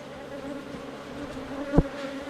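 Bees buzz steadily around beehive nucleus boxes, a close, continuous hum with a brief louder thump near the end.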